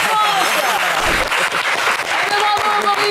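A studio quiz-show audience claps loudly and steadily after a contestant answers correctly, with a host's voice heard over the applause.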